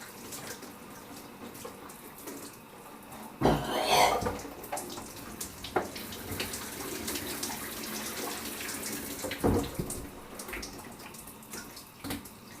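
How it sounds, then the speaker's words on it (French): Shower water runs in a steady broadband hiss throughout, with a few louder splashing bursts where the spray is briefly disturbed. "Bon allez, on va arrêter là la douche."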